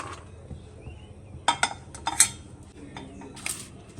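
Roasted pistachios tipped from a pan onto a plate, giving a few short clinks and rattles in scattered bursts over a quiet kitchen background, with no talking.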